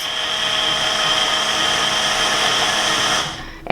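A Moer Sky personal blender whirs steadily as it mixes a mango lassi, a loud, even motor drone that holds for about three seconds before spinning down, followed by a brief clunk.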